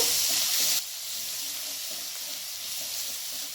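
Ginger paste hits a hot pan with a bright burst of hissing sizzle that drops after a moment to a steadier, softer frying crackle with faint stirring, heard close with no voices.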